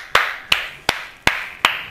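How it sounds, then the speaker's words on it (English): Five sharp hand claps ring out at a steady, even pace, each one loud and close with a quick decay, and no voices in between. "I'm clapping, if you can't tell. I'm actually clapping."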